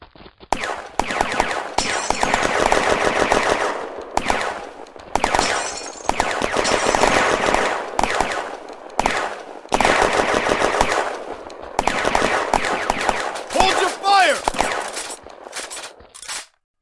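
A squad opening fire in the Firefight game's Battle of France campaign, with long, loud bursts of machine-gun and rifle fire that come in repeated waves with short pauses between them.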